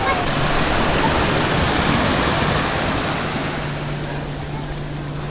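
Sea waves wash steadily onto a Moroccan beach, a broad continuous rushing surf that fades slightly toward the end, with no voices.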